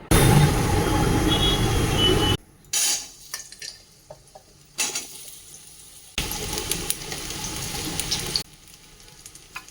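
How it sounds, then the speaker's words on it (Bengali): Soaked soybean chunks rinsed under a running tap: two stretches of steady rushing water, separated by a quieter gap of clinks and handling noises. "সয়াবিনটাকে ভালো করে ধুয়ে নিতে হবে"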